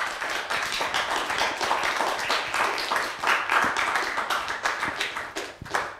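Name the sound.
audience applause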